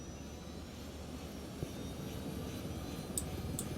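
Helicopter engine in Ghost Recon Wildlands, a low steady droning whine heard at moderate distance, constant throughout, with a couple of faint clicks near the end.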